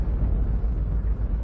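A cosmic explosion sound effect from a documentary about the universe, a deep, sustained roaring rumble heavy in the low end and heard alone.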